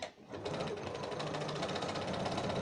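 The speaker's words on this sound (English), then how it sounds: "so yet again we're just going to sew" A sewing machine stitches a quarter-inch seam on a churn dash quilt square, running in a fast, even rhythmic whir that starts after a short pause and carries on close and loud without a break.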